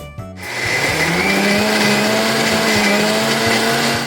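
A mixer grinder coarsely grinds chana dal for banana flower vadai, a loud steady motor whine with rattling grains that kicks in after a brief start and runs on without any talk.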